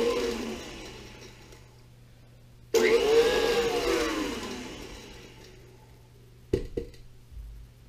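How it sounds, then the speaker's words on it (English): An electric mixer beating eggs into creamed butter and sugar for blueberry streusel muffins: a motor whine that fades, then surges louder with a wobbling pitch, and ends in a short clattering burst. "now we're going to add in 2 eggs and mix that"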